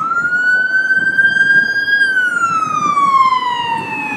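A single wailing ambulance siren, loud and near, holds a steady high tone then slowly sweeps downward, with a faint rumble underneath and no talk.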